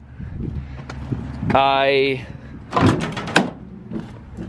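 Delivery truck door with a broken handle being yanked open, giving a strained metallic creak and then a couple of loud rattling clunks as the latch gives, heard up close over background talk.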